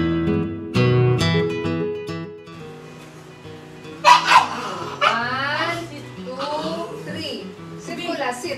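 Several dogs at a Christmas Eve photoshoot let out short barks and yips mixed with whimpers, close by and intermittent, while people talk and coax them throughout.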